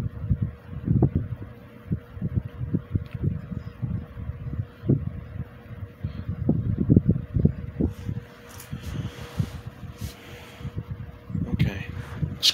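A Wizard box fan running at a slower setting, a steady breathy whoosh of airflow with a faint constant hum, near and fairly loud, with irregular gusty buffeting bursts throughout.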